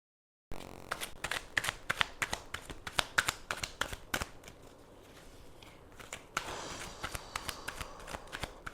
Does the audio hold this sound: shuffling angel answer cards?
yes